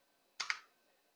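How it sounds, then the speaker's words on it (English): Two quick keystrokes on a computer keyboard, a pair of close, crisp clicks about a tenth of a second apart in an otherwise quiet room, with no voice. "Now I'll type the third command, that is IP tables"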